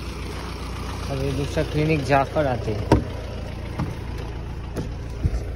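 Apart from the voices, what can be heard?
car engine idling after arriving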